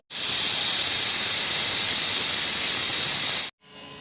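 A pressure cooker on the stove, cooking a spicy village-style chicken curry, lets out a loud, steady, high-pitched whistle of escaping steam for about three and a half seconds before it cuts off abruptly, leaving a fainter hiss.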